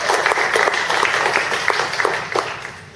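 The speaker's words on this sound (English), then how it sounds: "everybody give them a big round of applause" An audience at a general meeting gives steady, fairly loud applause for first-time attendees, with the clapping close and continuous throughout and no talk over it.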